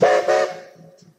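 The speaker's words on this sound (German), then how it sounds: "man hat schon mal so einen ersten Eindruck, wie so eine Fünftonpfeife klingt" Two quick blasts of a five-tone steam whistle from a German class 10 steam locomotive, loud and close, followed by a fading tail and a couple of faint softer toots.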